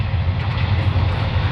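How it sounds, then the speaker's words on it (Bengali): A Dhaka-bound Cox's Bazar Express train passes Hasanpur railway station, making a steady, loud, deep rumble of rolling wheels and carriages that holds throughout without a break. "হাসানপুর রেল স্টেশন অতিক্রম করে যাচ্ছে।"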